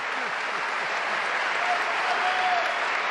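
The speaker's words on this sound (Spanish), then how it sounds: "al presidente Alberto Fernández, que suene el aplauso." Dense, steady applause from a crowd at an Argentine political event, continuous and fairly loud throughout with no pauses or talk.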